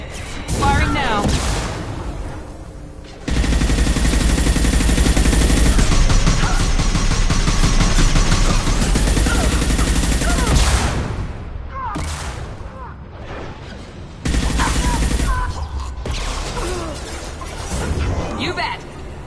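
Heavy sustained gunfire and booming blasts from a Mass Effect 2 firefight, loud and dense in long bursts with short gaps, with voices talking over the combat.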